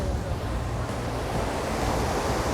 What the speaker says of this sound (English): So I think this is the water coming from the waterfall.